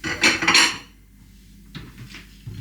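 A ceramic side plate clatters loudly as it is picked up and set down on a kitchen surface, followed by quieter light knocks.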